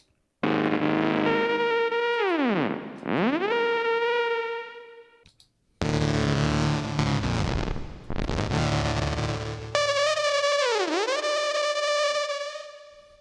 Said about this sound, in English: I'm going to put my reverb after the effects, and I believe that'll include the slowdown.